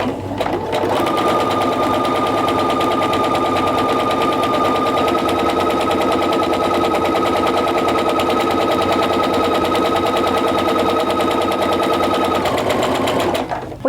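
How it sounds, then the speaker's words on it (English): A sewing machine runs steadily at full speed for about twelve seconds, stitching fabric in one continuous, loud, close-up whir that starts and stops abruptly. No one speaks over it. "I'm just gonna sew straight down the other side there"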